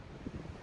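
Low, blustery wind buffeting the microphone in uneven gusts, a dull rumbling roar with no voices.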